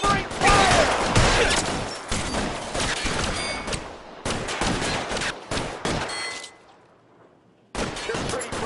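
Gunfire in the video game L.A. Noire, dense bursts of rapid shots and rattling volleys, loud and close, broken by brief pauses and a quieter stretch before the firing resumes.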